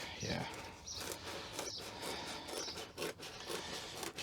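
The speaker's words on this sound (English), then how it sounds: "might actually need to use scissors, you know." Scissors snip and rasp through sound deadening insulation during work on a Suzuki Swift GTi, giving close, repeated scraping cuts with faint background noise.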